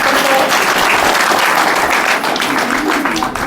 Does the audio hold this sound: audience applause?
yes